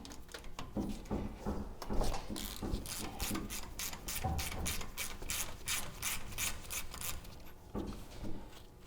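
Ratchet with a 19 mm socket loosening a steering knuckle nut on an 80 Series Land Cruiser, rapid close clicking of the pawl in bursts, loud and mechanical with no speech.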